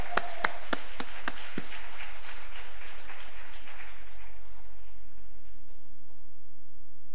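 A church congregation at a prayer retreat bursts into applause, starting with a few sharp individual claps and then a brief burst of crowd clapping that fades into quiet room tone with a faint hum.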